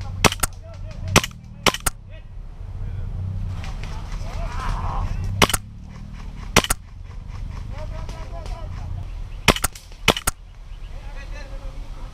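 Sharp airsoft pistol shots fired during an outdoor airsoft game, roughly a dozen snappy cracks in small clusters, near and loud over steady outdoor background noise.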